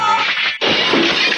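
Monster shattering effect from the 1990s Sailor Moon anime, a loud burst of bright crackling noise that cuts out briefly, then swells into a second sustained shimmering crash.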